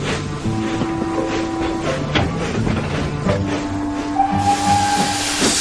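Edward the steam engine in the Trainz video game, rhythmic hissing steam chuffs and mechanical clatter with a whistle tone near the end, close and steady over a busy background.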